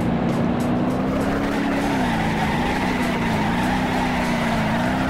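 Game car in BeamNG.Drive drifting with a steady, loud tire squeal over a droning engine, the pitch wavering slightly as the slide continues without pause.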